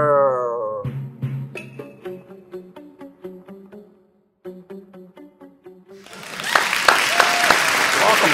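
A studio audience applauds and cheers for the show's stars, Chris Patton and Brandon Kozer, a loud, dense burst of clapping that swells in over the last couple of seconds after quieter voices and music beforehand.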